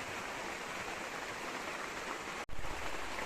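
Steady rain falls outdoors over a vegetable garden where watermelon and melon seedlings are sown, a dense even wash of noise with one brief dropout near the end.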